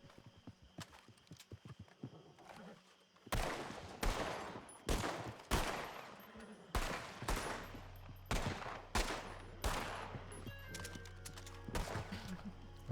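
Gunshots in a WildRP roleplay video game, loud sharp reports at a steady, roughly one-per-second pace, with some horse hoofbeats and faint background voices.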